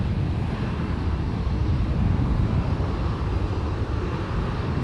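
A Jetstar airliner roars steadily at Sydney Airport at night, a loud and constant engine rumble with no voices.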